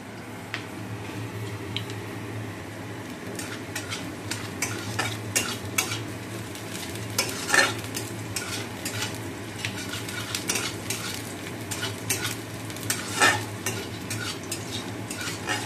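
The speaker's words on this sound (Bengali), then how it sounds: "তো দেখো আলুগুলো আর মাছ এই যে ভাজা হয়ে গেছে, এবার মাছের ঝোলটা করে নেব।" A utensil stirs fried potatoes and fish in a sizzling pan, with a steady hiss of hot oil under frequent scraping and clinking strokes, close and continuous with no talking.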